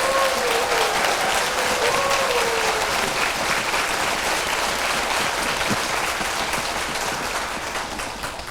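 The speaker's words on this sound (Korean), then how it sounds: "문영배 전 헌법재판관님에게 환영과 감사의 큰 박수 다시 한번 부탁드립니다" Big, sustained audience applause for a former constitutional court justice at a talk concert in Suncheon, a dense wash of clapping from a large crowd that tapers only slightly at the end.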